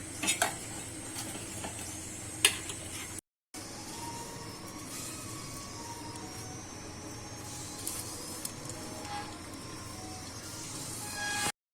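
Grated coconut dry-roasting in a pan, with steady scraping and stirring, metallic utensil clinks and a faint sizzle throughout, and one brief dropout partway through; no voices.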